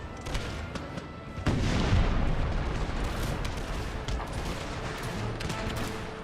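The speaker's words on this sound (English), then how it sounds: "All of my artillery engage the Guard Swiss." Artillery batteries fire in the Empire: Total War battle, a dense rolling barrage of booms and crackling volleys that swells after a quieter opening and keeps rumbling steadily throughout.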